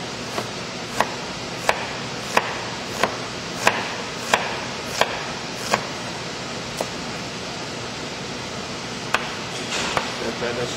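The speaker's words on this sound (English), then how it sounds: "I'm going to cut up my shallot" Knife chopping a shallot into fine dice on a board, a dozen crisp taps in a fairly regular rhythm about every half second to second, close and clear over a steady background hiss.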